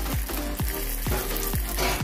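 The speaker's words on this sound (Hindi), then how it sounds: "तो अब चटनी के ऊपर तड़का डाल देंगे" Hot oil tempering sizzles and crackles loudly and steadily over chutney, with a repeating swishing pulse as it is stirred through.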